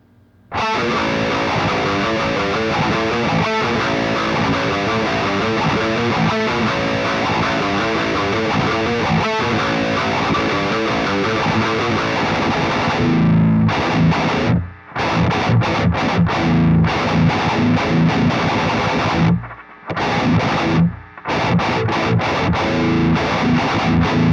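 Electric guitar plays thick, heavily driven riffs through a Revv G3/G4 preamp pedal with a super overdrive boost in front, steady and loud for most of the stretch, then breaking into choppy stabs with short silent gaps near the end.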